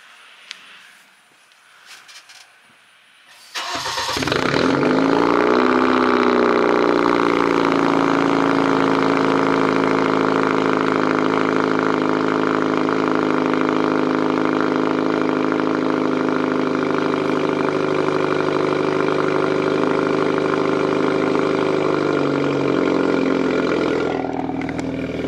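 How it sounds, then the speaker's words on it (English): A Kia K5 engine cranks and fires up on a cold start after a few quiet seconds, then settles into a steady, loud idle that runs on evenly until near the end. "let's get a cold start on the K5 real quick"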